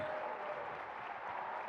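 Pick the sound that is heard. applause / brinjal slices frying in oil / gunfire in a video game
applause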